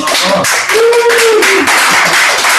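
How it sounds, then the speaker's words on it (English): Applause for a guest at a hackathon AMA event, dense clapping filling the clip with a faint tonal whine and brief voice underneath. "please, big round of applause for Will."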